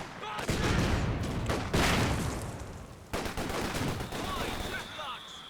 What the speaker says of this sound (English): Mortar goes in. Big shots.